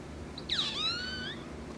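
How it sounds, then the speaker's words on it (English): A cat gives a single clear, drawn-out meow, close and fairly loud, rising then falling over about a second against a quiet room background. "it's a cat."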